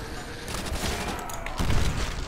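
Rapid, continuous bursts of Thompson submachine gun fire in Call of Duty: World at War custom zombies, loud dense volleys running throughout with a heavier stretch toward the end.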